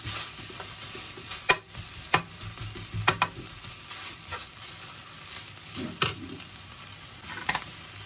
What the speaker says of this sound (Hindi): इसको हम सॉफ्ट करेंगे अनियन को सॉफ्ट करेंगे